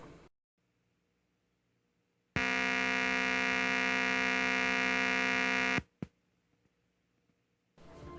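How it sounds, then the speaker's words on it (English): A loud, steady electronic tone with dense harmonics from a computer monitor entering or leaving sleep mode sounds for about three and a half seconds amid near silence, followed by a brief sharp click. "those do have some noise at times when the monitor comes in and out of sleep mode"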